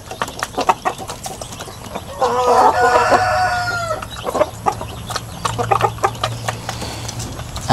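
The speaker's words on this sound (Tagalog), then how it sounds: "3 months old na mga pullets na asil." Three-month-old Asil chicken pullets at feeding time: a cluster of close clucks and chatter, with a rising, crowing call in the middle, against a busy farmyard background.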